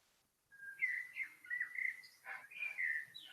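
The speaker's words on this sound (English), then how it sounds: "Gosh, this bird is hilarious. This bird is making me laugh." A lively songbird chirps in a rapid, varied run of bright tweets and short trills, fairly close and loud, with no voices over it.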